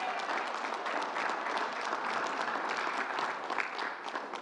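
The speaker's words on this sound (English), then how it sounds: "Let's give a big round of applause." A steady, dense round of applause from a crowd at a COVID update briefing, sustained evenly throughout with no talking over it.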